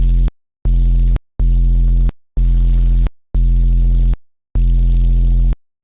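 Six repeated sustained bass synth notes from Serum 2 with phase distortion, a gritty, buzzy distorted tone, each cut off by brief silence, loud and close.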